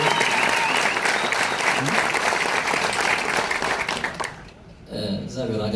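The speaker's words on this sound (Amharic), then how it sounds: "እባካችሁ በሷ አንድ ጭብጨባ" An audience at a film premiere breaks into loud, dense applause that carries on steadily for several seconds, then fades, and a voice begins speaking near the end.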